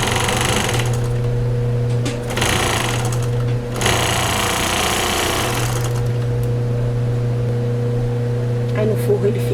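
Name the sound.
sewing machine stitching a bra seam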